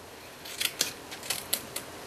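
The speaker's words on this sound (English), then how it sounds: "down the middle and then just cut from either side" Scissors cut through cardstock for a handmade thank-you card in a short run of crisp, quiet snips, about six sharp cuts spaced unevenly over two seconds.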